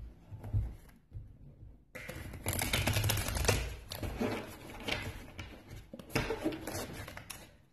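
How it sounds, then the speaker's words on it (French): A deck of tarot cards is shuffled by hand, giving rapid, close papery riffles and soft clattering flicks in uneven bursts with brief gaps. "Je vais la remélanger un peu."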